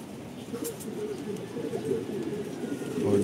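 Young racing pigeons in a Filipino loft give a soft, steady low cooing murmur close by, with no speech over it.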